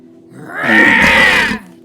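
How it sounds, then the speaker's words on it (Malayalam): A single loud, deep roar rises, holds for about a second with a rough, growling texture, then cuts off. "സിംഹം ഓടി വന്ന് ആക്രോശിച്ചു"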